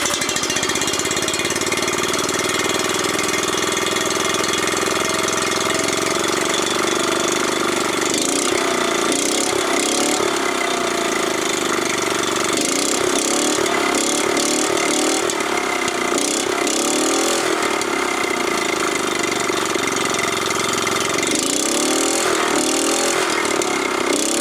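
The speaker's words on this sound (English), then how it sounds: "I'm going to start it up and give it a little rev for you anyways" An engine starts and runs loudly and close by with a knocking, chugging idle. It revs several times in rough surges midway and again near the end, with no talk.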